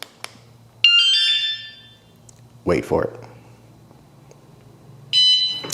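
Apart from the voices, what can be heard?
personal security alarm siren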